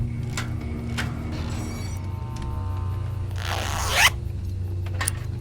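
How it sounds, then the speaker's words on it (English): Zipper on a cushion in the Tesla Effect: A Tex Murphy Adventure video game, tugged while stuck: a steady run of raspy zipping strokes with a louder, rougher scrape near the end, heard alone with no talk. "zipper on this cushion's stuck"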